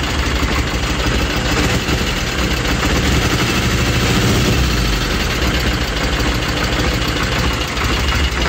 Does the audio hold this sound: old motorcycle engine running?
yes